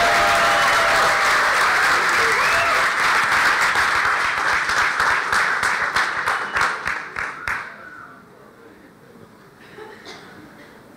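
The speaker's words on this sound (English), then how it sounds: "An applause for them." Audience applause at a startup competition conference, dense loud clapping from a crowd that thins into scattered individual claps and fades out near the end.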